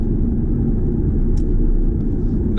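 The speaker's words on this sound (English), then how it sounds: "With the top down and the music on, listening to the exhaust, letting fill in the car, letting the transmission go through the gears." A 2019 Ford Mustang GT convertible drives with the top down, its engine and exhaust making a steady, loud low rumble that fills the cabin without break, with no talk over it.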